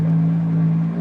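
Aston Martin One-77 engine idling and revving roughly at low speed, a steady deep drone with slight jerky surges, close and loud with no talk.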